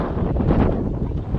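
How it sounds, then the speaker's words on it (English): Wind buffeting the microphone on a lake during a fishing outing, a dense, steady low rumble of gusting air filling the whole moment with no talk. "Wind is pulling me pretty good"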